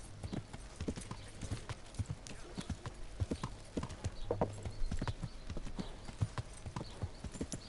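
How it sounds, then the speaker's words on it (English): Horse hooves clip-clop steadily on the road in the medieval game Kingdom Come: Deliverance, a continuous rhythmic trot at close range with faint game ambience and no talking. "My horse is getting tired."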